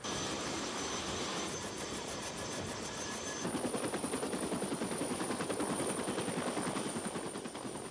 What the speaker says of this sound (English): A wave of helicopters carries Marines and cargo behind enemy lines.